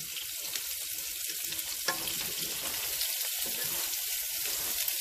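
Italian meatballs sizzle and fry in a pan, a steady broadband crackle with occasional louder spatters and stirring, close and continuous with no talk.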